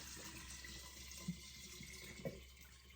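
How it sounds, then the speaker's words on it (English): Faint, steady running water flows from an open tap while water is added for homemade apple cider vinegar, a quiet continuous trickle with a couple of soft splashes and drips. "Now I'm just gonna add in my water here."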